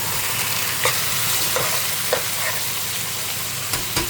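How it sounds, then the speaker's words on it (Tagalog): Chicken sautéing in a pan for Filipino tinolang manok, a steady loud sizzle with several sharp scrapes and knocks from a utensil as the pieces are stirred, no talk. "Isayin natin hanggang mag-brown yung kanyang chicken."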